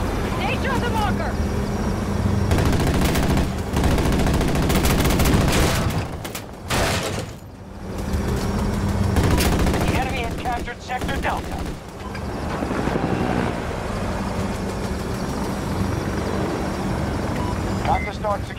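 Dense machine gun fire in a helicopter combat game, sustained rattling bursts mixed with engine roar and explosions, loud throughout with brief lulls and game voices talking over it.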